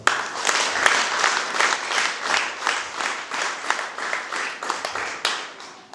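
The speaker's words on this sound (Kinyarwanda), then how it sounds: "nawe tumukomera amashyi" Applause for a church choir leader: a group clapping at moderate volume in a loose, fairly quick rhythm for about six seconds, with individual claps standing out and no talk.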